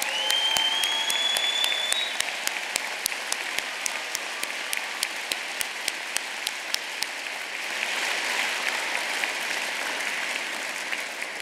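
Crowd at a Birmingham university degree ceremony clapping steadily in a large hall, with a sustained roar of applause and sharp close claps punctuating it, swelling slightly near the end.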